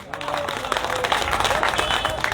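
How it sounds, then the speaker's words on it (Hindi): Applause from an audience at a public speech, a quick scattered patter of clapping hands that stays moderately close and steady for a couple of seconds, with a voice faintly under it. "शायद तालियां बज जानी चाहिए"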